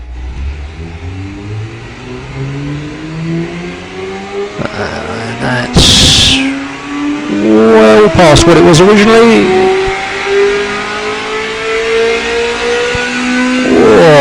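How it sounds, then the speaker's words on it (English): Virtual V8 engine in the car-building game Automation revs up steadily, its whine climbing in pitch with brief throttle blips, loud and close while someone talks over it. "That's a V8, mate."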